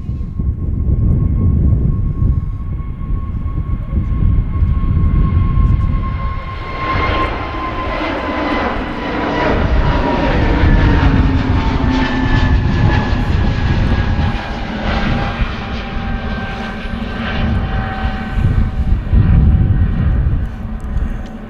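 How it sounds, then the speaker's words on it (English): A Pegasus Airbus A320neo airliner takes off at Manchester Airport, its engines roaring loud and steady with a high whine that slowly falls in pitch as the jet climbs away. "Pegasus A320 Neo up very quick there. They do have a lot of power, the Neos."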